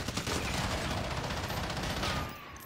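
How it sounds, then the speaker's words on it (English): Sustained rapid gunfire from an enemy in the shooter video game Warzone, a dense continuous fusillade of shots that stays loud for about two seconds and then cuts off. "there's a guy shooting me from further back"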